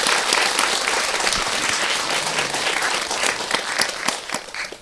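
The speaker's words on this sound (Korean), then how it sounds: "박수 한번 쳐요" Audience at a New Year Buddhist dharma talk at a temple, clapping continuously, a dense, steady round of applause that holds throughout.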